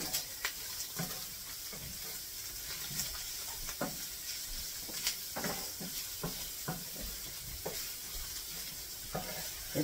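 Meat sizzles steadily in a pan as flour is stirred in, with irregular scraping strokes of the spoon cutting through the constant hiss; no one talks over it.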